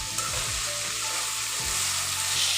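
Chopped onions fry in hot oil with a pinch of salt for a Bangladeshi duck curry, a steady close sizzle with a few low knocks and scrapes of stirring, no voices.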